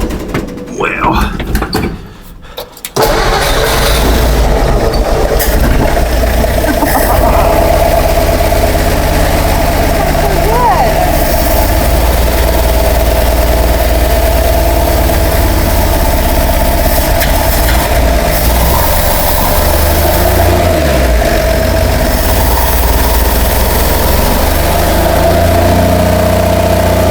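A 1958 Ford F100, just re-installed, cranks briefly and catches at about three seconds, then settles into a loud, even idle that rumbles up close for over twenty seconds.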